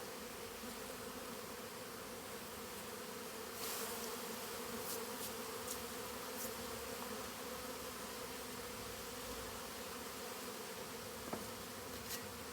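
Dense, steady buzzing of many honey bees in a hive fills the scene, a continuous droning hum with a few brief ticks and knocks.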